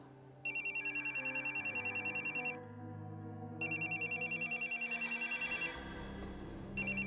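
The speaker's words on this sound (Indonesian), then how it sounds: "Tolong, kamu jangan angkat teleponnya ya." Telephone ringing with rapid electronic trilling bursts, two long rings separated by a pause and a third starting at the end, fairly faint over soft background music, with no talking.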